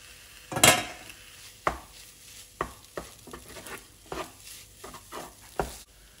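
Maggi noodles with egg stirred in a hot pan: a spatula scrapes and clacks against the metal at irregular intervals, over a faint sizzle, close and without talk.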